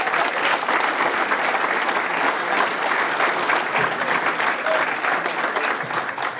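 A crowd at a high school hall of fame ceremony claps loudly and steadily for a class of 2005 inductee, the applause holding strong before tapering near the end.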